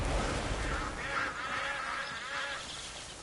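A duck quacking in the video game Crimson Desert, repeated nasal honking calls over a steady noisy background, moderately loud.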